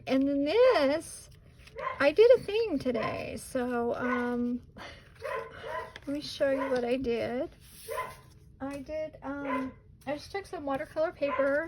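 A dog barks and yips repeatedly in the background while someone talks steadily over it, the barks coming in short bursts that blend beneath her voice.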